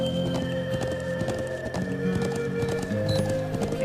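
A horse in the video game Trails of Cold Steel clip-clops along with steady hoofbeats and lets out a whinny, set against game background music, close and clear.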